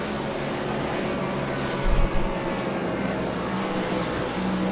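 Race cars at Talladega during a caution, a steady broadband engine roar filling the scene with a brief louder surge near the middle, no voices.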